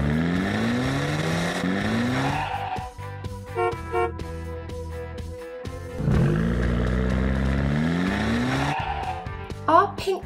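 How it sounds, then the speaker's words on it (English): Cartoon toy cars, a pink one against green and orange ones, race with whining engine revs and repeated tire squeals and skids, rising and falling over about ten seconds with a sharp squeal near the end. "Our pink car is going to race with the green and orange cars."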